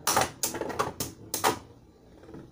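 Four to five sharp clicking bursts from spinning Beyblade tops in quick succession, close and fairly loud, fading to a quiet tail with no talk.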